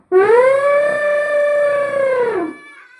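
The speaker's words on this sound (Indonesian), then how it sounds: "Gajah. Kok tahu gajah?" A single loud, sustained elephant trumpet call lasts about two and a half seconds, heard alone with no talking, played as a sound to guess in a children's animal game.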